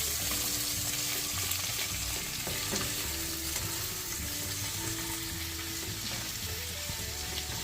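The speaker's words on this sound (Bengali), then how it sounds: "পেঁয়াজটা ভালো করে নাড়াচাড়া করে সমস্ত তেলটা পেঁয়াজের মধ্যে মাখিয়ে নিয়ে" Onions fry in oil in a pan over a low-to-medium flame, giving a steady close sizzle with scraping and clinking as they are stirred.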